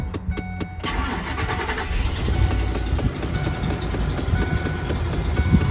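A food truck engine cranks with a few quick starter bursts, then catches and settles into a loud, steady running rumble close by.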